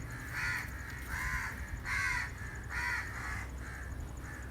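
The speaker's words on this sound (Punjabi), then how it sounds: "ਕਾਂ ਤੜਪਣ ਦੇ ਨੇ ਕਿ ਸਾਨੂੰ ਨਹੀਂ ਹਿੱਸਾ ਮਿਲਣ ਡਿਆ" Crows caw repeatedly while birds and animals are being fed outdoors. About half a dozen loud, harsh caws come in a steady rhythm over a low background rumble.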